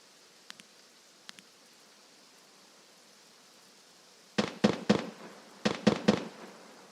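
Distant gunfire in a sniping video game, two faint far-off shots early on, then two quick bursts of three sharp cracks each, loud against a quiet background.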